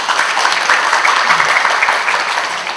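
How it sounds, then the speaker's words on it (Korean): Sustained audience applause at a book talk, dense even clapping from a seated crowd welcoming guests, loud and steady throughout with no talk over it. "잠시 일어나셔서 큰 박수로 맞이해주시기 바라고"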